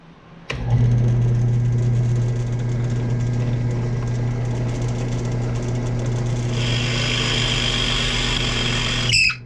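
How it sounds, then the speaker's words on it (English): A drill press starts with a click and settles into a loud, steady motor hum; midway the pitch brightens into a harsher whine as the bit cuts a hole, then the machine stops with a final clunk. "then I can safely drill the hole"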